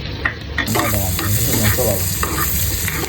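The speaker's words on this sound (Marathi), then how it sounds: "आता मी हे आलं लसूणचे जे कट्स आहेत ते चांगले टाकणार आहे आणि चांगले फ्राय होऊ द्या मस्त" Ginger and garlic pieces sizzle steadily in melted butter, a close, even frying hiss that runs throughout with faint stirring scrapes on top.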